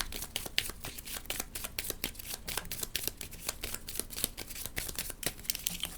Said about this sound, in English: I'm gonna activate this to shuffle 2 cards back in.